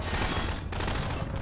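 Rapid gunfire from the video game Half-Life 2 crackles in a steady, dense stream throughout, loud and continuous with brief dips in the burst.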